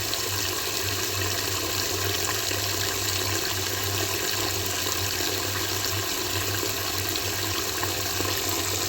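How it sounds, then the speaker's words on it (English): Tap water pours steadily into a kitchen sink while dish soap foams into suds, a constant close rushing and splashing hiss that holds even throughout with no voices. "the longer I run the water, the more the suds happens"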